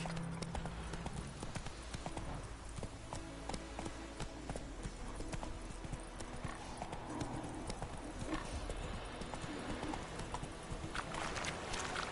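Geralt's horse Roach galloping in The Witcher 3: Wild Hunt, a continuous rapid clip-clop of hooves on the ground that stays close and steady throughout, layered over dense game ambience.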